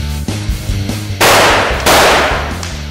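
Gunshots in a staged action challenge, a loud close burst of rapid fire followed by two sustained blasts of gunfire, with no talking.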